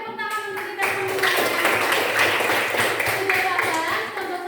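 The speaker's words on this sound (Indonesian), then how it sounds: "tepuk tangan untuk kita semua" Grade 4 pupils applaud together in a classroom during a Pancasila civics lesson, a dense burst of hand clapping that starts about a second in and keeps going steadily, with children's voices mixed in.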